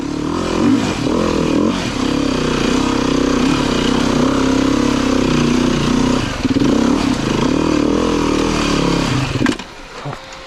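Beta 390 RR-S four-stroke dirt bike engine labouring up a steep trail, a loud, steady rumble with throttle surges throughout, dropping off sharply near the end as it stalls.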